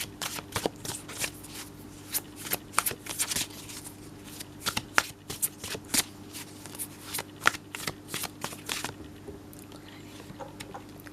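Tarot cards are shuffled close up in a steady run of crisp riffles and soft slaps, repeated bursts over a faint background hum with no talking.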